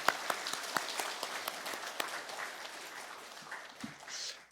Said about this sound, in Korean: 우리 다시 한번 사랑과 축복의 박수 했으면 좋겠습니다